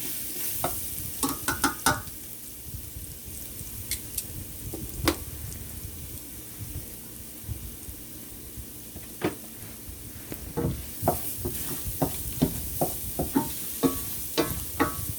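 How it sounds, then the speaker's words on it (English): Aniseed and ginger sautéing gently in a little oil over low heat in a pot, a soft continuous sizzle broken by scattered sharp clicks and utensil taps, close by with no speech. "we're gonna let these saute on a low heat a few minutes"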